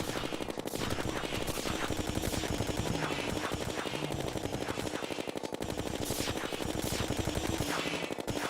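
Rapid, continuous gunfire of hyper bullets aimed at the mech bosses in Terraria, a dense stream of sharp shots running steadily and loudly throughout, with layered game effects underneath.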